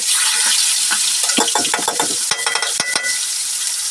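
Yellowfin fish hits very hot oil, bursting into loud, dense sizzling and frying crackle with sharp popping spatters, steady and close throughout with no voices.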